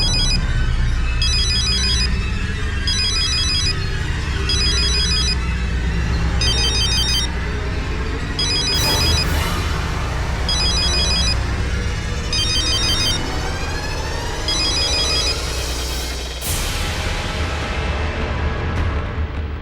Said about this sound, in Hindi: मैं अभी सीमा जी को फोन करता हूं।